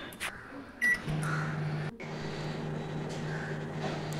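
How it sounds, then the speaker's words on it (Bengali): Microwave oven running while baking an eggless Christmas fruit cake, a quiet steady hum with a few soft clicks and a brief dip partway through. "এইবার আমি এটাকে আবার মাইক্রোওয়েভে কিছুক্ষণের জন্য দিয়ে দেবো।"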